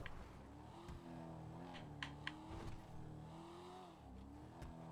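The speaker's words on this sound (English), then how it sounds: "What an old Corvette that sounds like this." An old Corvette-style car engine in a video game revs steadily, holding a droning mid-range tone that rises and dips with the throttle, with a few sharp clicks and no talk.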